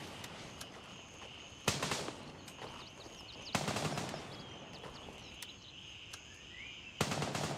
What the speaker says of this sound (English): let's try to get angled in on wherever that firing's coming from.